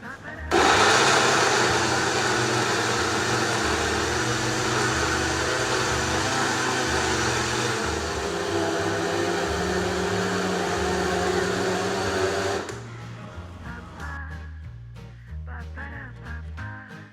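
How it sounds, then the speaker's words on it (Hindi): A blender whirs loudly and steadily for about twelve seconds while processing chickpeas, garlic and lemon juice into hummus, then cuts off, leaving quieter knocks and clatter. "ये देखिए यहाँ पे मैंने इसे ब्लेंड किया है"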